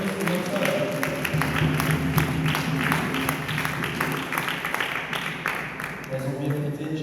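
Church congregation clapping together in steady rhythmic applause that fills the room for several seconds, with voices and singing mixed underneath.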